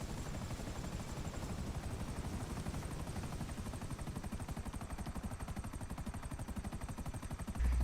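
Rapid, steady thumping of helicopter rotor blades close by, loud and continuous throughout, in the video game GTA 5 Online.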